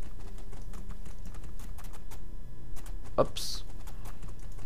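A horse galloping across the open steppe in the video game Two Worlds 2, a steady rapid clip-clop of hooves throughout, with a brief soft voice near the end.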